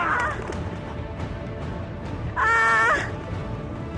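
A large bird squawks with loud, harsh honking cries, one near call standing out above a steady noisy background, with no speech.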